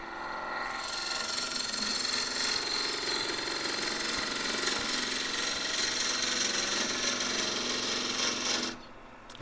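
A wood lathe spins as a turning tool flattens the end of a blank, making a loud, continuous rasping cut for about eight seconds before it stops abruptly.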